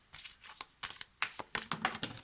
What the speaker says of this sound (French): Et on va se choisir une petite carte.